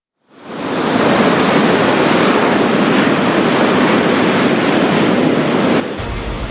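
Loud, continuous roar of a coastal storm's winds of up to 100 km/h, heavy rain and crashing surf, a dense wash of noise that holds steady before dropping off abruptly near the end.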